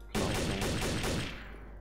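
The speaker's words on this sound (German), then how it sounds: "Hier wird geschossen!" Gunfire in the shooter game Trouble in Terrorist Town: a short, loud, rapid burst of shots lasting about a second, close and dense, ending in a brief fading echo.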